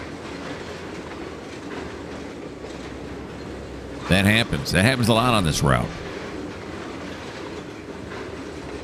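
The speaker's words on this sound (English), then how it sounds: "I got trains moving." Trains rumble along in the rail simulator Trainz 2022 with a steady rolling hum. A louder passage of squealing, horn-like tones lasts a couple of seconds midway, and someone talks over it.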